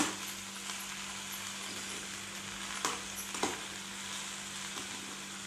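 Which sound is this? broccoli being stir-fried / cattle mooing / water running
broccoli being stir-fried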